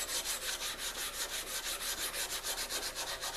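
A garden tool blade is rubbed by hand to sharpen it, down to bright forged metal: a steady rhythmic back-and-forth scraping of about two strokes per second, close and moderately quiet, with no talking.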